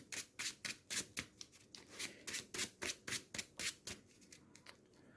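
A deck of cards is riffled in quick, rhythmic bursts, about a dozen crisp flutters in a row, close and clear.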